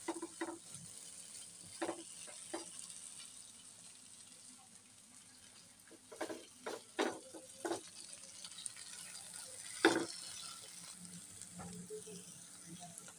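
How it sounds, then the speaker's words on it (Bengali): Mustard curry frying in a pan, a low steady sizzle broken by scattered scraping taps as a spoon stirs it, fairly faint and close. "কিছুক্ষণ পর পর চামচ দিয়ে, খুরচুন দিয়ে নেড়ে চেড়ে দিব, যাতে করে নিচে পোড়া না লেগে যায়"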